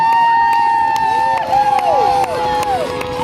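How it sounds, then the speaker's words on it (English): Crowd cheering and shouting at an outdoor lumberjack festival saw race, loud and steady, with a high whining saw tone sliding through the noise and rising whoops across the clip. "Keep cheering them on."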